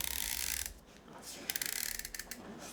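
The adjustment dial of a ZP6 hand coffee grinder is turned, giving a quick run of small, crisp ratcheting clicks, close and fairly quiet, with an uneven rhythm as it is wound down.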